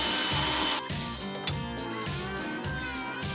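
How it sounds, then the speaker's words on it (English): Power drill boring a pilot hole in a DIY splitboard: a loud whirring motor that starts high, then settles into a steadier, varying whine with short bursts of grinding as the bit cuts. "come up here and drill your holes smaller, and then work bigger"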